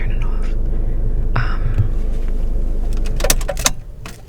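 A car engine idles with a steady low hum, then cuts out near the end as keys jingle and clink briefly.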